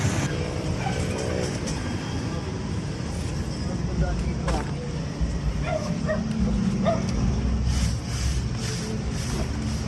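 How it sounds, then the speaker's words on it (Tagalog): Dog barking and yipping at intervals amid outdoor ambience, with people talking over it throughout. "May aso."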